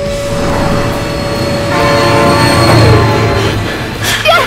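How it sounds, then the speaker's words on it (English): A train rumbles past in the BeamNG driving game while its horn sounds in long sustained tones, loud and continuous, with no talking. "Oh my god, train!"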